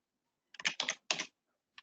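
Computer keyboard typing in a quiet room: a short burst of several close, crisp key clicks in three quick clusters, then a single isolated tap a moment later, with no talking.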